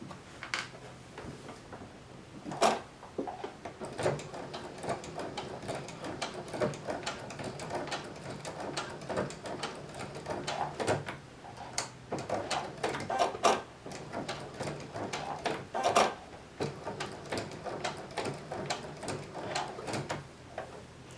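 A home sewing machine runs a normal-length straight stitch through small plush fabric pieces, with faint irregular mechanical whirring and sharp clicks and taps, quiet and close, no talk.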